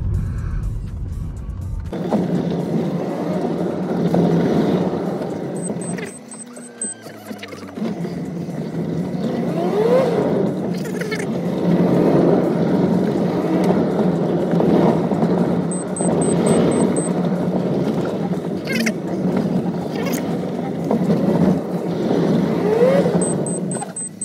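Engine of a Honda Step Wagon Spada idling under an open hood, a steady close low hum and rumble sustained for over twenty seconds with a few faint clicks.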